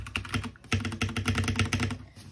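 Rapid typing on a new RGB gaming keyboard, a dense run of crisp key clicks at a quick, uneven pace, close but fairly quiet, with no talking.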